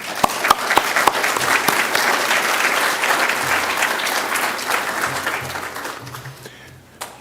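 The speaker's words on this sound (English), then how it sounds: "Let's give them a round of applause." An audience at a resident committee general meeting breaks into loud, sustained applause of many hands clapping together, gradually thinning out and fading near the end.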